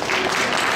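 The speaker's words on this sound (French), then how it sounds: "je pense qu'on peut l'applaudir" Audience applause at a cosplay event, a short dense wash of clapping from a crowd, fairly loud and steady with no talk over it.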